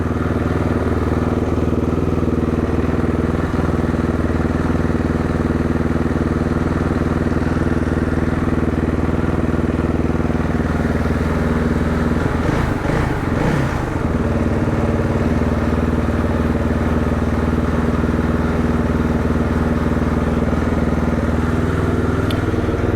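A 2016 KTM 450 XCF motorcycle engine idles steadily up close while warming up, a constant throbbing drone with a brief burst of clatter partway through.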